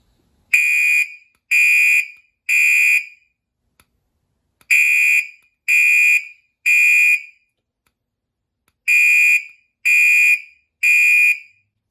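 A loud Gentex fire alarm horn strobe blares in repeating groups of three harsh, buzzing blasts, each group separated by a short silence.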